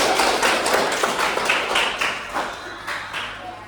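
A group applauds with a steady patter of clapping hands that gradually fades toward the end.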